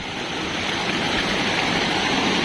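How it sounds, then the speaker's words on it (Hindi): A fast-flowing mountain river in Garhwal rushes past close by, a loud, steady roar of churning water with no break and no voices over it. "पानी का बहाव यहाँ काफ़ी तेज है, ये देखो।"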